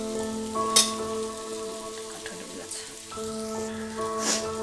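Tilapia fish pieces fry lightly in hot oil with a soft, crackling sizzle over a steady humming drone, plus a couple of brief louder spatters.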